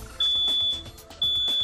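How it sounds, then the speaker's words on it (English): A household smoke alarm sounds its shrill test beep twice, each a loud, sustained electronic tone separated by a brief pause. "Make sure every family member knows what the alarm sounds like."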